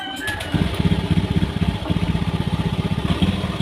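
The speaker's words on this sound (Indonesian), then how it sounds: "Sekarang kita hidupkan motornya." A motorcycle with a throttle-sensor fault starts up and runs close by, its engine chugging in a steady, uneven rhythm with slight stumbles, loud and alone without talk.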